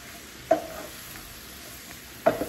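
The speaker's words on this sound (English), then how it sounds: "When I'm caramelizing onions, I try not to move them too much. Just the initial... just to get butter on all of them." Onions being coated in butter in a pan, a soft low sizzle with two sharp stirring scrapes and clanks about two seconds apart.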